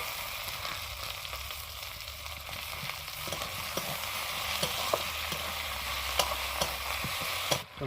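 Tomatoes fry with onions, ginger and spices in oil, a constant nearby sizzle with repeated scraping and tapping from a utensil stirring the pan, and no voices.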